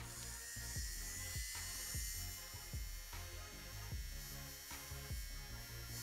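A steady mechanical buzzing hum from a small electric sweater fabric shaver being used to shave skin runs throughout, close and continuous, with faint periodic thumps of contact.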